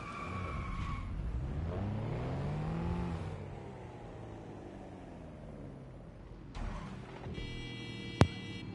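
A car engine in the video game Watch Dogs Legion revs and surges, its pitch climbing and falling as the car drives along with tire skids. A sharp click rings out near the end, with no voices.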